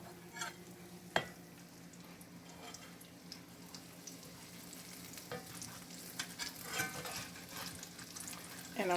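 Vegan chickpea and artichoke nuggets fry in grapeseed oil with a continuous gentle sizzle, punctuated by occasional clicks and stirring knocks in the pan.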